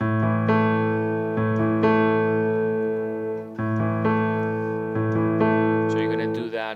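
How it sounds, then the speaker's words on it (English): Piano plays a repeating low left-hand pattern of octave, fifth and octave notes, sustained with the pedal and ringing, several phrases in a row, close and clear. "very common on piano to do octave, a fifth, and octave"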